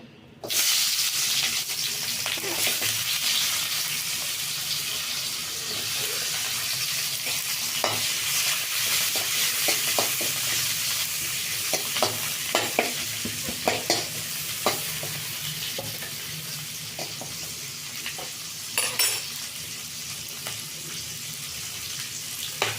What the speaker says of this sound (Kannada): ಫಸ್ಟ್ ಇದನ್ನೆಲ್ಲ ಫ್ರೈ ಮಾಡ್ಕೊಳ್ಳೋಣ